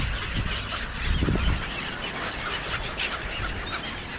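Gulls call repeatedly at close range in a parking lot, harsh honking cries over a steady outdoor background with a louder burst early on.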